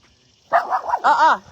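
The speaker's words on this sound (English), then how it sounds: "We have some doggies coming our way." Dogs approaching bark and yip close by in a short burst of two or three sharp, whiny barks, with no talking.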